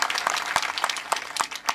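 An audience at a kirtan gathering in Naitale, Nashik, claps in unison, about six sharp evenly spaced claps over a low murmur of the crowd.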